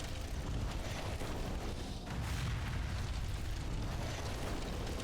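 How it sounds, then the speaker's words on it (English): Continuous, loud roaring rumble of fire in the dungeon game Grimrock 2, a steady broadband wash with a brief dip near the middle, no voices. "A lot of fire down there."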